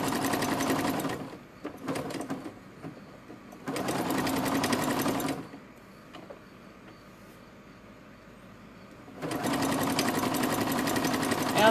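A sewing machine that keeps quitting after running a while whirs in loud, steady bursts, stopping and restarting several times with quiet gaps between runs.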